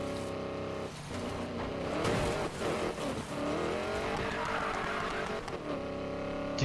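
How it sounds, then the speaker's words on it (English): Racing car engines roar and rev continuously in the video game Need for Speed Payback, with pitch shifts and a brief dip, and no talking. "the sounds of these cars are pretty awesome"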